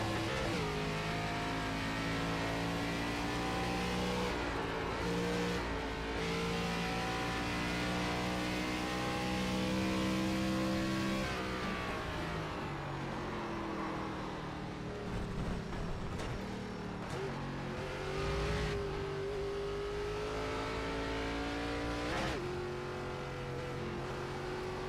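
Race car engines at Watkins Glen in the iRacing game rev hard and continuously, pitch climbing through gears with brief drops at shifts and deceleration around the middle, loud and unbroken with no speech.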